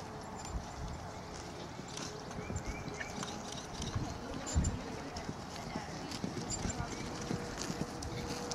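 A horse walks at a farm, its hooves clip-clopping in a steady rhythm under continuous background noise while people talk nearby.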